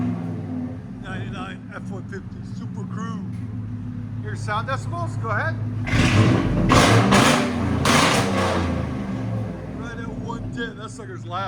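A 1999-2004 Ford F-150 SuperCrew with a 4.6L V8 and loud aftermarket exhaust, heard from inside as it rumbles, then surges into a heavy roar for a few seconds before settling back to idle, with people talking over it.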